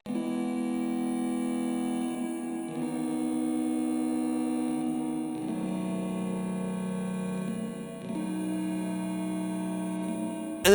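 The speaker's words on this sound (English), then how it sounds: "the first one is this pad sound, which I threw a ton of bit crushing on" Bit-crushed synth pad in an FL Studio beat playing altered guitar chords, sustained tones shifting through several chord changes, steady and full with no voices.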